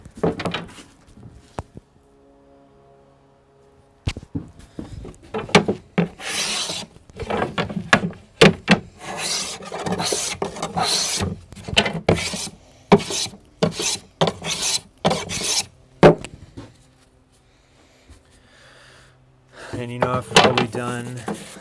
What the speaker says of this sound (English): so I've done a lot of hand planing